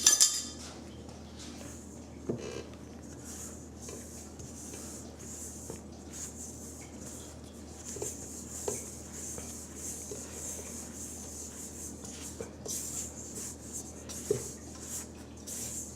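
Faint scraping and clinking of a spatula stirring powders with vitamin E oil in a bowl, a steady soft rub with a few sharper taps, close and quiet, no voices.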